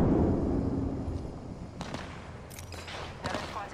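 A frag grenade goes off in the game Apex Legends: a loud booming blast fading into rumble, followed by scattered sharp cracks of gunfire.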